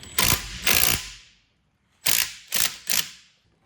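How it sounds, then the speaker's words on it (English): Five separate ratchet bursts, two then three after a pause, loud and close with no talk, as a ratchet wrench loosens the spring on a shock from a 1981 Mazda RX-7. "We're gonna go ahead and loosen our spring back up, and it'll put tension on everything"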